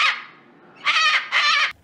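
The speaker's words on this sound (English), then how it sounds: "With a cockatoo who squawks out boo." A cockatoo squawks at a zoo: a harsh opening call, a pause, then two loud raspy squawks close together, clear and near with no talk.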